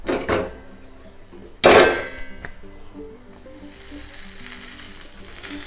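Sweet sanja poli laid onto a pan with ghee, giving a metallic clank and a loud burst of sizzling that settles into a steady, quieter frying hiss close by.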